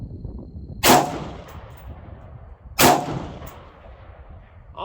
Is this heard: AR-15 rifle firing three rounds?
yes